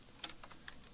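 Several soft keystrokes tapped on a computer keyboard while entering an HTML comment, a quick cluster of three or four clicks, close and quiet, with no one talking.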